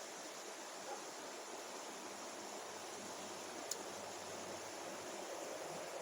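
Steady broadband rush of rapids on the Little River near Townsend, Tennessee, a continuous even roar of flowing water with no voices, holding constant throughout.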